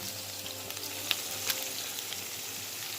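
Half a teaspoon of curry powder sizzling steadily in hot oil for Jamaican curried shrimp, a close, continuous crackling fry with a few sharper pops.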